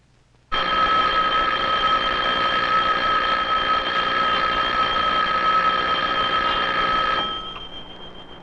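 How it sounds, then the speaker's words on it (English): Electric bell ringing continuously for about seven seconds, a loud, steady metallic buzzing ring that starts suddenly and then stops, followed by a brief fading resonance. "But when you ring the bell,"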